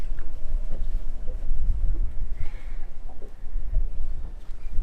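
Small fishing boat running at sea off Milford Haven, Pembrokeshire, a steady low engine rumble mixed with wind buffeting the microphone and water noise, continuous and fairly loud with no talk.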